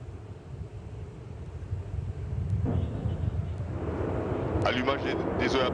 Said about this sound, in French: Allumage des EAP, décollage.